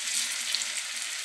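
Food frying in hot, boiling oil, a bright continuous crackling sizzle, close and even throughout with no voices.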